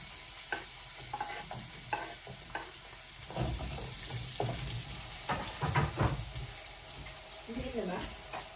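Onions frying and being stirred in a cooking pan for adobo, with a steady sizzle under repeated scraping and stirring strokes, while brief voices break in now and then.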